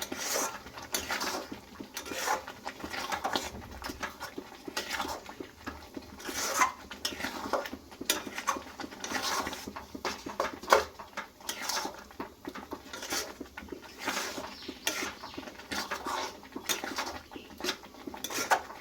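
Mango pickle with melting jaggery being stirred in a pan, giving a steady run of soft scraping and light clinks against the metal that carry on without pause and with no talk.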